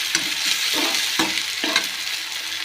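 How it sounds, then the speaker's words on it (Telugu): Green chillies fry in a pan alongside tomatoes with a steady, bright sizzle, punctuated by several scraping stir strokes at a regular pace, close and fairly loud with no talking. "పచ్చిమిర్చి వేసుకొని ఒకసారి బాగా ఫ్రై చేసుకోవాలండి."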